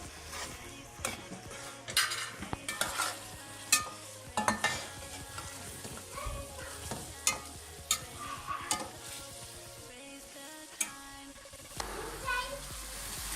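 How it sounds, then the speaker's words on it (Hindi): Chicken frying in oil with okra in a village-style bhindi gosht, a spoon stirring through it in repeated scrapes and clinks over a steady sizzle, with background music playing throughout. "ये आपने अच्छी तरह से बुनाई कर लेनी है ऑयल में। और आपने चम्मच चला देना है एक बार।"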